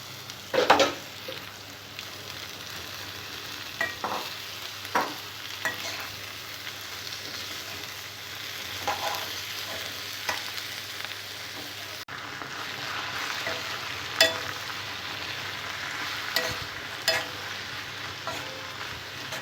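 Malabar spinach leaves and turmeric sauté in a pan, giving a soft continuous sizzle broken by occasional stirring clinks and scrapes of a spoon, moderately quiet and steady.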